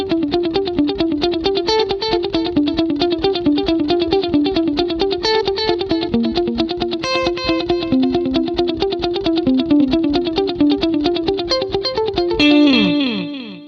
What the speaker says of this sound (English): I love a good modulated delay.